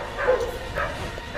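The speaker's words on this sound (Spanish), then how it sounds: "los perros haciendo desmadre" Several dogs bark and yip in short bursts around a home gaming setup, fairly close, with a steady background hum and no clear talk over them.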